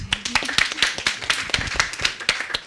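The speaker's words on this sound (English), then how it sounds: "Let's give a round of applause." Clapping at a crypto accelerator launch event, a sparse, uneven patter of individual hand claps from a small group, close and distinct rather than a dense roar.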